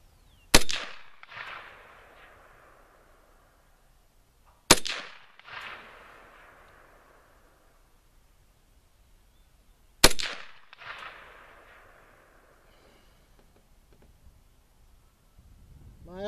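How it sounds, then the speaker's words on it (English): Three loud, sharp reports from an M1 Carbine .30 caliber rifle fired at a target outdoors, evenly spaced about five seconds apart, each cracking hard and trailing off in a brief echo. "we'll shoot some more on the other target. Here we go. We're just going to shoot center of mass."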